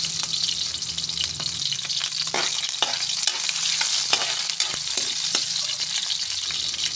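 Garlic and onion frying in hot cooking oil, a steady loud sizzle with occasional stirring clatters from a utensil, continuous throughout with no talking.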